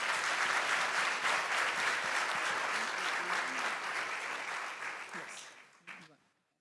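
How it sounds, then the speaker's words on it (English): Steady applause fills a hall as an audience claps for award finalists at a ceremony, holding strong before fading out, with a brief spoken word at the end. "Let's give all of them one more round of applause."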